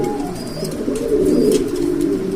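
A pair of Johnson bloodline pigeons coo loud and close in a continuous low throaty murmur, with a couple of faint higher chirps above.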